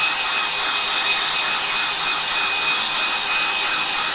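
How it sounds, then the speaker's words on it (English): Hairdryer blowing to dry ink on a drawing, a loud, steady, close whooshing roar that holds unbroken for the whole stretch with no talking. "and then I'm going to get my hairdryer."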